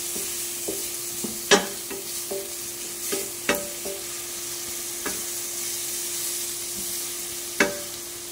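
Garlic and onion sauté in butter in a pan, a soft steady sizzle under a faint background hum, broken by several sharp clicks and scrapes of a utensil stirring.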